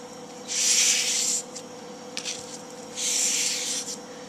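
A steel knife edge, being convexed on a Cold Steel Trail Master, is drawn in two long, even strokes across sandpaper laid over a soft mouse pad, each a loud abrasive rasp with a short scrape between them.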